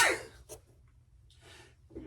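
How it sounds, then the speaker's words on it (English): A single sharp sneeze bursts out close by at the start, followed by a second smaller sniffing sneeze and a few breathy exhales, in a quiet workshop where boots are being hand-stitched. "I almost did 3 sneezes."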